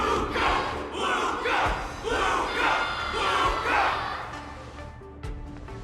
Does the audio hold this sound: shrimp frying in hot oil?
no